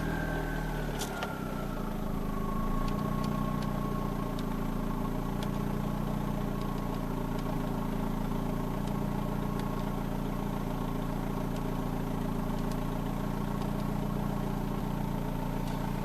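A budget turbo build car idles in neutral after a fuel adjustment, a steady low engine hum holding even throughout, with an early falling whine and faint ticks over the drone, no voices.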